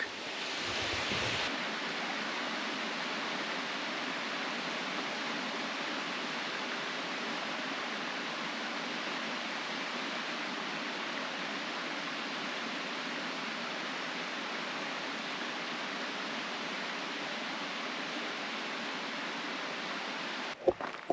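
Aber Falls, a waterfall in Snowdonia, roars as a loud, constant broadband rush of falling water heard up close, unbroken for the whole stretch with no talking.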